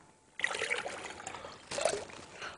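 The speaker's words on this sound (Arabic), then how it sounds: "كمان حط لهم شوي صغيره من المي" A small amount of water is poured onto sugar in a pot to start a syrup on a cooking show, two short splashy trickles close to the microphone.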